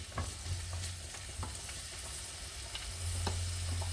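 Onions fry in a pan for spaghetti and mince, a close steady sizzle broken by repeated scraping strokes of stirring, growing slightly louder toward the end, with no talking.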